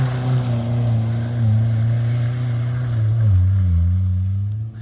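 A Suzuki Sierra 4WD revs as it climbs the CREB track near Cairns in North Queensland, its engine droning loudly and close, the pitch rising and falling as the throttle is worked.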